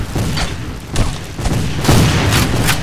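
Repeated heavy booms and thuds of cannon fire in the video game History Civil War: Secret Missions pound in close succession, dense and rumbling, with no pauses between blasts.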